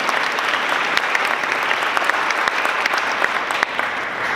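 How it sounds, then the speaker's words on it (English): Audience at an opening ceremony keynote breaking into dense, sustained applause, many hands clapping loudly and evenly for several seconds, with no speech over it. "Let's give them a round of applause."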